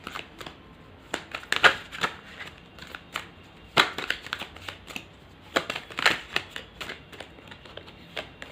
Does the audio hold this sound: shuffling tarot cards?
yes